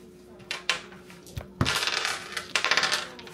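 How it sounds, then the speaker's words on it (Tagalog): Dice tumble and clatter onto a hard surface in a few quick bursts of sharp clicks and rattles, close and crisp, with a faint voice in the background. "You can have some dice ASMR."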